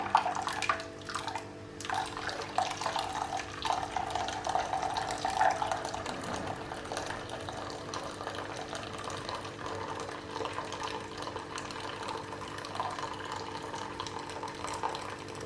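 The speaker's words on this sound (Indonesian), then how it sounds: "Kita tuang airnya nanti itu sampai set ya guys. Nah, tuang seperti ini ya, kita aduk." Water pours and is stirred into sago starch in a bowl while making ambuyat, a steady trickling wash with soft splashes and stirring, fairly quiet and close, running continuously without talk.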